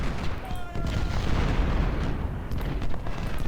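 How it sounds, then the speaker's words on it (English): Dense, continuous rumble of massed musket fire and booming artillery from the Civil War strategy game Ultimate General: Civil War at the First Battle of Bull Run, loud and unbroken throughout with overlapping bursts. "Loomis, open fire. And now the great Turkish shoot continues."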